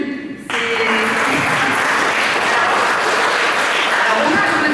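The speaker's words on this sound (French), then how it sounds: "mais on l'applaudit." An audience in a hall bursts into applause after a short lull and keeps up dense, loud, continuous clapping for several seconds.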